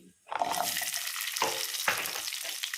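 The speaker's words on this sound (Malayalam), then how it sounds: "ഇത് നന്നായിട്ടൊന്ന് ഫ്രൈ ചെയ്യുക" Oil bursts into a loud, steady sizzle as coconut, fennel seeds, black pepper and shallots are dropped into the pan for mutton curry, with a couple of stirring scrapes as they fry.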